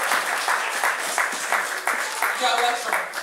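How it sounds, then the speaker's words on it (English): Audience applause at a Yoruba Day community event, a steady wash of clapping that runs the full length with some voices mixed in. "Can you just give him a round of applause?"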